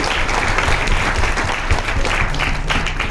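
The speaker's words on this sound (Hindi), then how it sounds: "एक बार जोरदार तालियां कंपनी की ये इरादे के लिए।" Loud, close applause fills a company business meeting, a dense and steady burst of clapping from the gathered crowd with faint talk under it.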